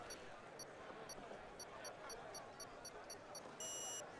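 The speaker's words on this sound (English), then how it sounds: "So we hear the clock beeping down to get ready to go." A series of short, evenly spaced electronic beeps counting down to an F1 video game race start, ending in a longer, louder tone, over a low background hum.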